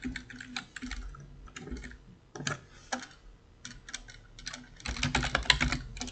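Computer keyboard being typed on while writing Python code, quick uneven bursts of clicky keystrokes with short pauses, close and fairly quiet, with no voice.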